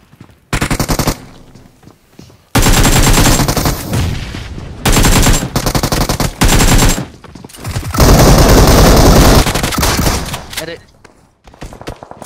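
Loud, close gunfire from the video game Free Fire rips out in long, sustained automatic bursts with short quiet gaps between them, repeating several times.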